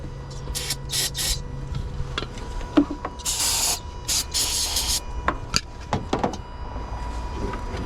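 Brake cleaner is sprayed into the intake of a 2012 Toyota Tundra that cranks but will not start, in several short hissing bursts. Clicks, rubbing and mechanical handling noises sit between the bursts, close by and with no talking.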